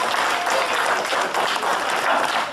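Loud, continuous applause from a gathered crowd at a birthday party in Lachamp-Raphaël, many hands clapping densely and evenly throughout without pause.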